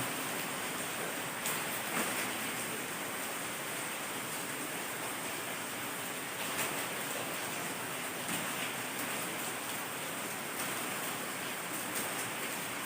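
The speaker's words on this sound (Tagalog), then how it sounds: "Medyo maulan guys." Steady rain falls outdoors at an old house, a dense, even hiss that holds at a constant level for the whole stretch with no voices over it.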